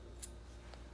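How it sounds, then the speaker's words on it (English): Scissors snip through crochet yarn, one quick, faint cut in a quiet room followed by a softer click, with no talking. "Cut off the yarn."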